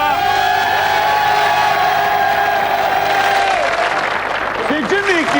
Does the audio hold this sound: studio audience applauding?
yes